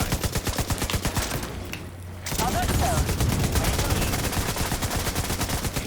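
Light machine gun fire in the shooter game The Division 2, loud rapid automatic bursts with a brief pause before the firing resumes heavier, close and sustained.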